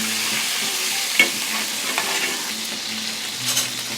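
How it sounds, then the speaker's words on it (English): Potatoes cook in a pan with only a little water, giving a steady, close sizzle and crackle that runs throughout, with a few louder stirring clinks and scrapes on top. "Our potato is boiling"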